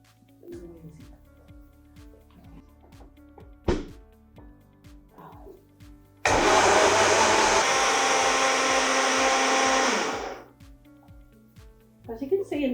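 Blender crushing Weetabix into a thin liquid feed, a loud roaring whir that starts abruptly partway through, runs about four seconds and stops, with quiet clinks and movement before and after.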